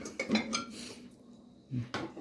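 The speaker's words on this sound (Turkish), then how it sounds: "Bir tane tencere atalım. Bakayım bunları böyle yıkar mı?" Cooking pot and other dishes being loaded into a dishwasher during kitchen cleaning, a few close clattering clanks of metal and crockery with a quiet pause between them.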